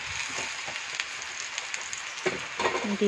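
Soybeans fry in a pan with a steady, soft sizzle and crackle, growing a little louder toward the end as more sputtering and clattering joins in.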